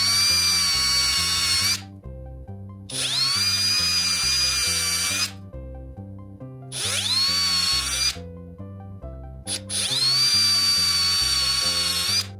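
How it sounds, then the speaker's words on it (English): A power drill bores a hole in the wooden floor of a Wurlitzer piano, whining loudly in four long runs separated by short pauses, the pitch dipping under load as each run starts, no talk. "why not go ahead and center this, drill this out"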